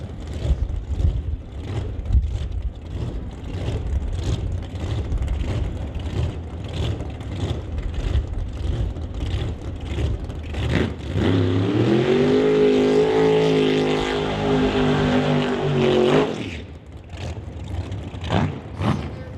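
Doorslammer drag race cars at Mission Raceway's Titanium Strip, including a 1967 Chevy, roar past with a loud sustained engine howl that swells into a rising, revving pass and then cuts off abruptly, over steady crowd and track ambience.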